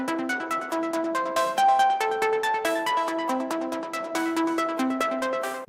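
A bright synth arpeggio programmed in FL Studio for a beat, cycling rapid plucky notes over extended chords in a steady, continuous pattern, loud and alone.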